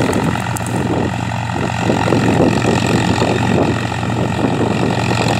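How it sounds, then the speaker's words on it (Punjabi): A New Holland 5500 tractor runs a reaper in a field, its diesel engine a loud, steady, close drone with a throbbing low rumble, heard alone with no talking. "ਟਰੈਕਟਰ ਦੀ ਆਵਾਜ਼ ਬਹੁਤ ਦਮਦਾਰ ਵਾ।"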